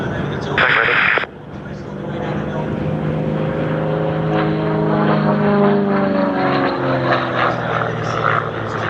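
Propeller aircraft of the Red Bull formation taxi at an airshow, their engine drone steady and moderately near. The propeller pitch wavers and slides. A brief burst of other noise comes early on, with faint voices in the background.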